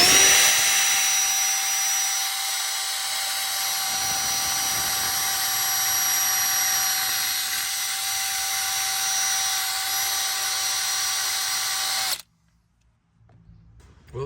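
A power tool whines steadily while rust is cleaned off a 2008 Mazda 3 AC clutch assembly, a loud continuous high-pitched spin that runs for about twelve seconds before cutting off abruptly, leaving faint shop noise.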